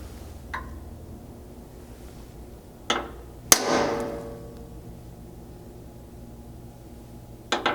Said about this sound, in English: using a center punch and a hammer to mark the center of these holes